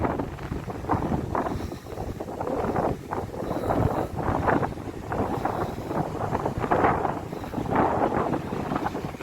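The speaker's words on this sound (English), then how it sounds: "I do apologise about the wind." Gusty wind buffets the microphone at a Scottish coastal wild-camping spot, rushing in irregular loud bursts throughout with no voices.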